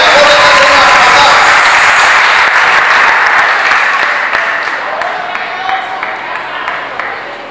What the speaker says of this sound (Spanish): Iglesia, dése un aplauso a usted, hermano.